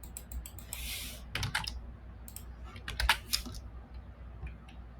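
Someone types a prompt on a computer keyboard, with quiet close bursts of rapid keystrokes separated by short pauses.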